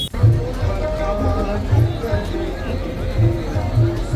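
A huge crowd throngs the Ganga ghat in Banaras, making a dense, continuous babble of voices and footsteps close by, with a few louder thumps now and then.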